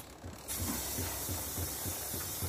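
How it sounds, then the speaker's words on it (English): A Lexmoto ZSB motorcycle rear wheel and chain, freshly oiled at the sprocket, spun by hand, giving a steady ratcheting, clicking whir with a soft hiss throughout, close up and fairly quiet. "I'm just going to keep spinning it for a bit, just to circulate that oil in."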